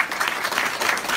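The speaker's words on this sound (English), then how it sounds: "Give yourself a round of applause." Audience applause at a business mentoring event, a short burst of dense clapping from a crowd, steady and fairly close.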